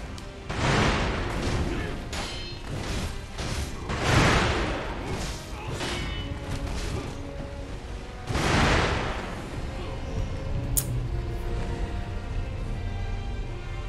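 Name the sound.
firecracker explosions from the Sekiro video game boss attack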